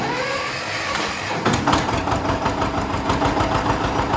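A small engine is started with a push button from cold while in neutral. It cranks briefly, catches, and settles into a steady, close idle with a rhythmic knocking pulse.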